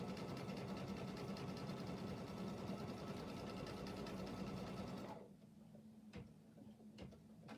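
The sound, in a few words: sewing machine stitching embroidery letters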